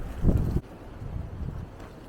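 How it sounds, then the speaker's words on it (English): Strong wind buffets the microphone in a loud rumbling gust, then keeps roaring at a lower, steadier level. "It's very, very windy today."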